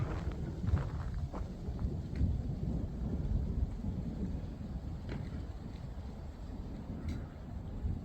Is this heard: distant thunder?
yes